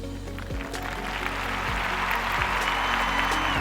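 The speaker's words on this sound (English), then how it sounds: "Let's give a round of applause to Suzanne Tucker." Audience applause for a guest arriving on a children's talk show, a broad wash of noise that swells and holds steady over a low background hum.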